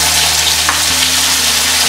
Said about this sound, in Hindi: प्याज को हम नरम होने तक भून लेंगे